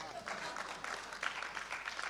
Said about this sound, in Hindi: एक बार इनके लिए भी तालियां बजा दो।